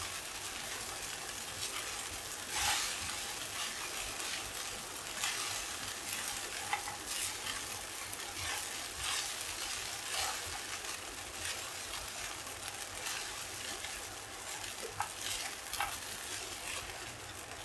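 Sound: stirring sabudana khichdi in a sizzling pan

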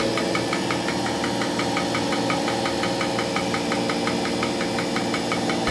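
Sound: vacuum pump running

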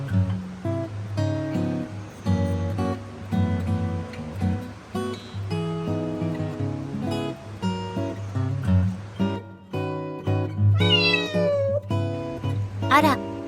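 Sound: cats meowing at Yubara Onsen museum

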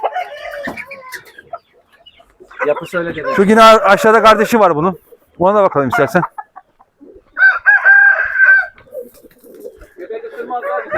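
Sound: young rooster clucking and crowing

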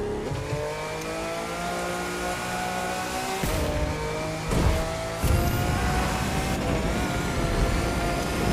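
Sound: Lamborghini Reventon car drifting in The Crew 2 video game

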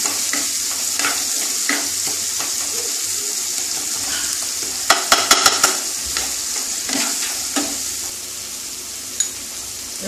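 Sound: chopped chili and spices frying with eggplant in pan

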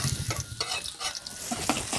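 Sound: sliced spices being stir-fried in a pan

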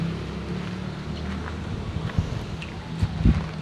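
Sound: wind blowing debris outdoors

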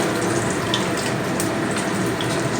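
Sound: water being poured into cooking pot

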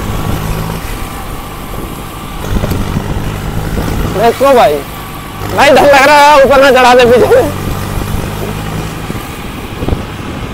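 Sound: modified tractor engine running

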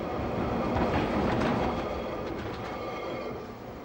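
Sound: Melbourne tram running on track

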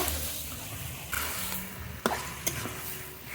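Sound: stirring one kilo of mutton with spices in a pan

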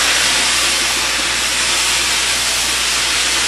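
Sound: steam cleaning tool hissing steam onto cafe floor

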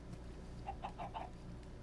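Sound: chicken clucking in a video game

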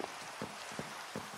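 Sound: rain falling in a video game

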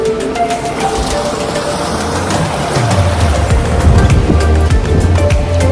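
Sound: water flowing in a channel

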